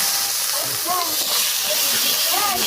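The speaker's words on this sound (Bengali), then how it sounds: "এটা একটু তেল দিয়ে একটু কষায় ভাজা ভাজা, ওই যে ভাজা ভাজা তেল ছেড়ে দিচ্ছে" Spices fry in oil for a village-style hilsa fish curry with sponge gourd, a steady broad hiss running throughout while a voice talks over it.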